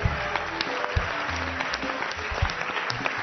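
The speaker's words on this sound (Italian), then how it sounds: "Un applauso." Steady, dense audience applause fills an Italian television studio during a talk show, continuous and fairly loud throughout with no pauses.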